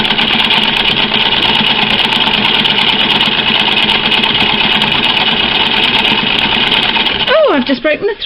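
A sewing machine runs continuously during free motion quilting of a leaves design, a loud, even, rapid stitching hum that carries on without a break before slowing and faltering at the very end.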